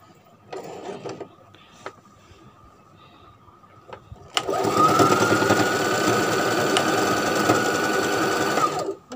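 A sewing machine stitches a single layer to attach a sleeve onto a short-sleeved T-shirt; after some quiet handling and clicks it runs in one long, steady, close burst and then stops.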